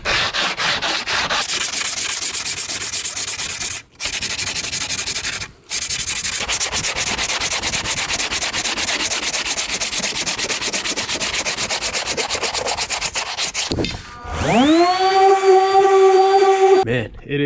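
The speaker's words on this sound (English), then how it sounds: "now I'm gonna go ahead and hit it with some 36 grit on a long block, try and shape it up" A fiberglass wing being shaped with 36-grit sandpaper on a long sanding block, loud rasping continuous strokes with two brief pauses, then a rising tonal whine near the end.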